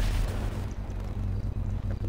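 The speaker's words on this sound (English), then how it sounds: "Explosion." Explosion in GTA V during a boat outing, a heavy low rumbling blast that starts loud and rolls on with a crackling, fading tail, with no speech.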